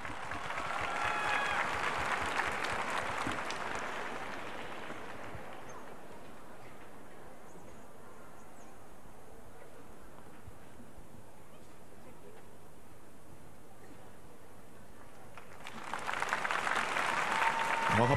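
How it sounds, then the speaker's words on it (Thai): Studio audience applauding at the finale of a Thai televised singing competition: a loud burst of clapping for about five seconds, a quieter stretch, then another strong round of applause near the end. "ขอเสียงปรบมือด้วยครับ"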